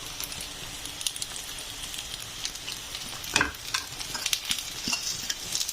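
Onion and garlic frying in a little oil while a spatula stirs them around the pan, giving a steady close sizzle broken by scraping strokes and occasional clinks, with no voices.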